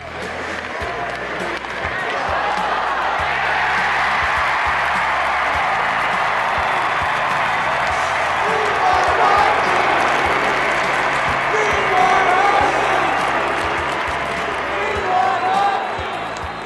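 Large hockey crowd at a sold-out Operation Hat Trick fundraiser game between the Gulls and the New York Rangers, sustained loud applause and cheering filling the arena, steady and enveloping for the whole stretch.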